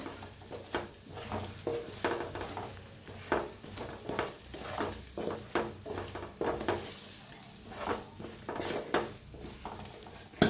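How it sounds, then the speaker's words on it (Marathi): Raw tomatoes with masala fry in a pan and are stirred repeatedly. A continuous quiet sizzle is broken by rhythmic scraping strokes of the spoon against the pan, close by. "त्याच्यातच टाकूया टमाटोही टमाटो ह्याच्याबरोबर थोडंसं फ्राय करून घेऊया"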